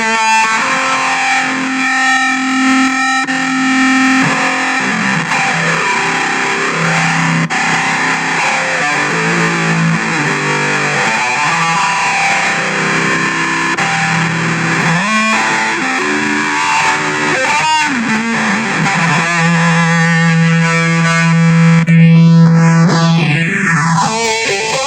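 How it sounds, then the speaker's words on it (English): Distorted electric guitar through a Zoom 707-II multi-effects pedal with its drive and phaser engaged, loud chords and notes swirling with a sweeping phase, ending on a dive-like pitch slide. "the zoom drive seems to bring out the color in the phaser a little bit better"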